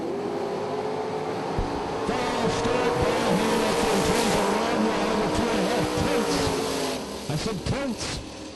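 At a drag strip, a 1972 Nova and a Camaro make their run, engines roaring loud with rising, swooping pitch as the cars launch and pass, while an announcer talks over the noise.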